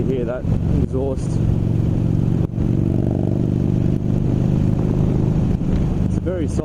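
Yamaha Bolt cruiser with an aftermarket Cobra exhaust running close by, a low throbbing idle held steady for several seconds with short rev swells, while a person speaks over the engine.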